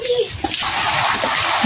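Water rushes and splashes continuously outdoors in a mountain setting, a broad steady wash with brief voices cutting in at the start and end.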